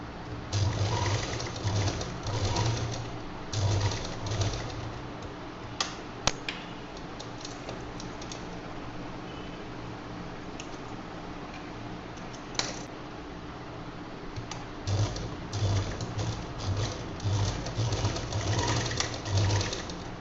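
A sewing machine stitching fabric for a purse bow runs in steady bursts with short pauses, close and fairly loud, with occasional light clicks and no talking.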